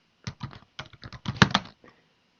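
Rapid typing on a computer keyboard, a quick run of roughly a dozen close, crisp key clicks in uneven bursts over about two seconds, with no talking.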